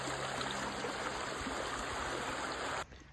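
Steady rushing of creek water flowing around someone wading, a loud, even stream wash that continues unbroken and then drops off sharply near the end.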